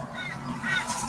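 A crow calls outdoors with harsh, scratchy cries over a breathy, noisy background, the call growing a little louder toward the end.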